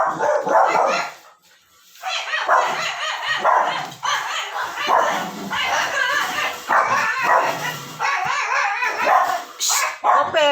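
Several pet dogs bark and yip noisily indoors in rapid overlapping bursts, with brief whimpers and a short lull, loud and close.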